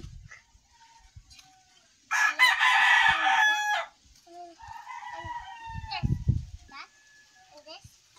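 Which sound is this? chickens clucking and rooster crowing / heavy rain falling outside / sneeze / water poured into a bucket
chickens clucking and rooster crowing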